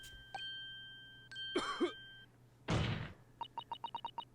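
A single raspy cough, then a short throat-clearing burst, set among synthetic game blips and a rapid series of short electronic beeps, in The Great Ace Attorney 2: Resolve.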